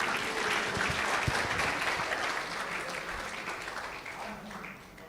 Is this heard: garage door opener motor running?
no